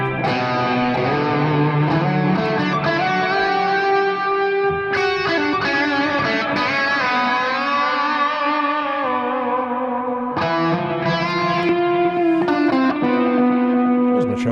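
Electric guitar played through a delay whose repeats blur together into a reverb-like wash, with sustained chords and notes ringing continuously and brightly, loud and alone with no voices.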